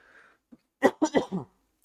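A short burst of coughing, three or four harsh hacks in quick succession, close and fairly loud, after a brief faint throat sound.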